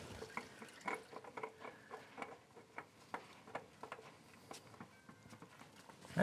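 Oil dripping from a Kubota B2601 tractor into an oil pan, faint irregular ticking drops in quick succession, close and quiet with no talking.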